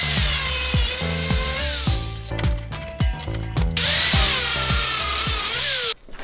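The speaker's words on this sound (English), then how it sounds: "This is why they created angle grinders." An angle grinder cleans up a poorly cut steel tube notch for a budget crosskart build, whining loudly and continuously with short dips as it bites into the metal, and repeated scraping ticks throughout.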